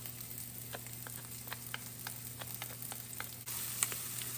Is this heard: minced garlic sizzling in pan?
yes